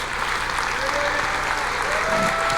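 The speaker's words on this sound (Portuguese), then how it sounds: "Aplauda o Senhor, glorifique o nome do Senhor." A church congregation standing and applauding the Lord during worship: continuous, dense clapping from a large crowd in a reverberant hall, with voices and a faint tone mixed underneath.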